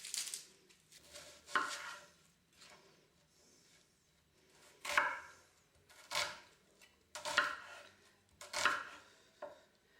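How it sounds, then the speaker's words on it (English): A knife chops onions on a board for lasagna: close, crisp cuts in short irregular bursts separated by brief pauses, with no talking. "while that's heating up, you can get on and chop up your onions"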